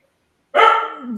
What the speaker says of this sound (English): sorry for the dog in the back.